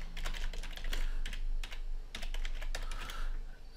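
Rapid keystrokes on a computer keyboard entering an email address at a Windows sign-in screen, a dense, quick clicking run close to the mic with brief pauses, no talking.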